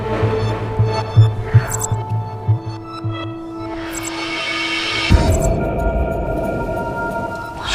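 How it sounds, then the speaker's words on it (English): A deep, throbbing low rumble rolls through a space, pulsing unevenly at first, then fading into a steady hum before a sudden heavier surge of noise swells in near the end. "What's the rumbling though?"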